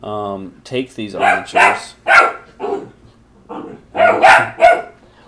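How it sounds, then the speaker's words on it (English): A pet dog barks several times at close range, sharp bursts breaking up steady talk from a person indoors. "One second here, that's my dog."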